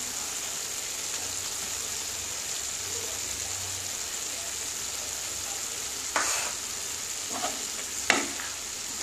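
Chickpeas and onion being fried in a pan, a faint steady sizzle with a few brief scrapes and knocks of a stirring spoon, heard close with no talking.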